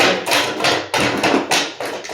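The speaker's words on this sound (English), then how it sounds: "I take the claw of my hammer and just kind of come through" A hammer claw rips old plaster away from wooden lath, giving a series of loud, close scraping cracks and crumbling bursts in an uneven rhythm, with no talking.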